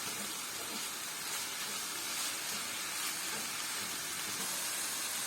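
Minced meat and onions sizzle steadily in a pan, a dense continuous frying hiss heard up close with no break and no talking.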